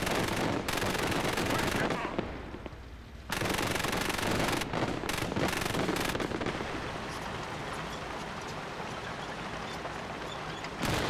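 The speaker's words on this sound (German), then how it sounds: "Können die Schüsse eigentlich da im Boden gehen?" Dense, sustained automatic machine gun fire in the WWII strategy game Gates of Hell, loud and nearly continuous with a brief lull before bursts resume, layered with distant battlefield rumble.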